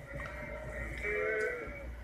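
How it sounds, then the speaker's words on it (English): Sheep bleat in a sustained, wavering call that rises in the middle, close and fairly loud over low background noise at a show. "We've been trying to talk to them, but we're hearing sheep."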